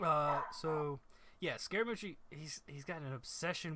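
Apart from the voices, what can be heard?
No everyday noises stand out.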